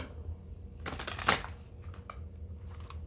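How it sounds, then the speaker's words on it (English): Cards riffle in a quick shuffle, a brief dense burst of crisp flutter rising mid-clip over quiet room tone. "every time, every shuffle during the pre-shuffle"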